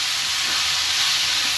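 Egg slices dipped in a salted chilli-powder batter frying in a pan, a steady, loud, close sizzling hiss that holds evenly through the short clip with no pauses or talking.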